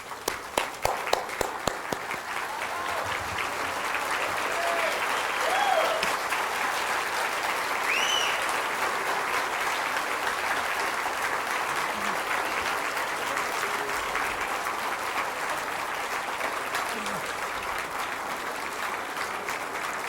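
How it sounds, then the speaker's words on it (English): A standing ovation for DeForest Kelley at the Golden Boot Awards opens with a few distinct claps, then swells into sustained, dense applause from a large crowd that carries on steadily at full strength. "I hope you would join me in standing for an ovation and applause to DeForest Kelley"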